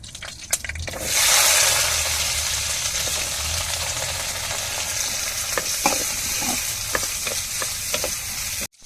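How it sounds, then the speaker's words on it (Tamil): Small onions sauté in hot oil after a tempering of whole spices, giving a close, steady sizzle that swells early on, then settles, with intermittent spoon scrapes and clinks and no voices. "வெங்காயத்தை வதக்கிக்கிட்டு இருக்கோம்"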